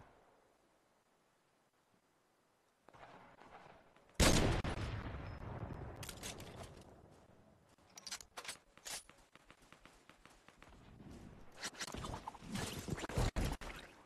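Gunfire in the video game Fortnite, with sniper shots cracking in bursts among loud game effects after a quiet opening, the shots coming and going over the second half.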